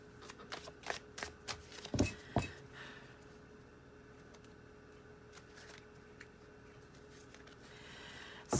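Tarot cards are handled and riffle-shuffled close by in a quiet room, giving a quick run of crisp flicks and slaps over the first few seconds before the handling fades to near silence.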